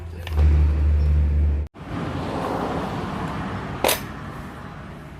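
A CS 7200 E chainsaw that sat unused for nearly two years bursts into a loud, droning run for about a second and a half, then cuts out abruptly. Rustling handling noise and a brief sharp click follow.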